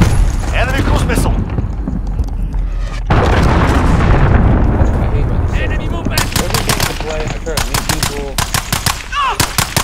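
A Call of Duty Modern Warfare match carries loud, close bursts of automatic gunfire and heavy booms from a cruise missile strike. Rapid repeated shots come in clusters over a rumbling explosive wash, and a voice speaks over the action.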